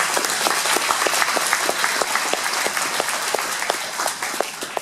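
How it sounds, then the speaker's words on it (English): Audience applause at a Farm Bureau meeting in Floresville, Texas, honoring a man named Gene: steady dense clapping from a room full of people, with some sharper individual claps standing out, sustained for several seconds and tapering slightly at the end. "I'd like to give him another round of applause"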